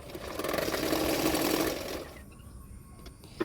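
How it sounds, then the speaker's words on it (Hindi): Sewing machine running steadily while stitching the folded back edge of a blouse, a loud continuous whirring buzz for about two seconds, then stopping into near quiet with a faint click at the end. "अभी मैं पीछे की तरफ फोल्ड करते हुए सिलाई कर रही हूँ।"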